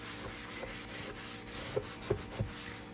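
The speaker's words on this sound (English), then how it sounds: "I'm just gonna keep scrubbing this so I can see along the edges" A brown-stained glass stovetop being scrubbed, giving soft repeated rubbing strokes up close with a few sharper scrapes toward the end, alone without voices.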